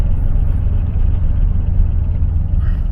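A 1974 Cadillac Deville's engine and exhaust hum low and steady from inside the car while driving slowly, a smooth, quiet rumble with no revving.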